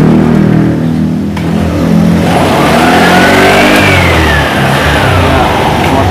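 A Honda Vario 150 scooter engine revs up loudly close by while the bike sits stationary with a faulty speedometer, pitch climbing and holding high before easing slightly.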